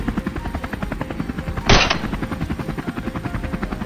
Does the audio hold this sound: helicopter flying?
yes